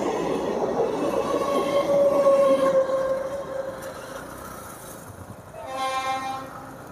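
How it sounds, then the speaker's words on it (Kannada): An empty local train running near a flyover rumbles past steadily, loud at first and then fading, followed by a clear blast of its horn toward the end. "ಟ್ರೈನ್ ಖಾಲಿ ಖಾಲಿ ಓಡ್ತೈತೆ"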